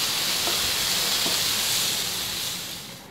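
Tomatoes with salt sautéing in a pan for pepper chicken: a steady, close broadband sizzle and hiss that holds evenly, then gently fades toward the end.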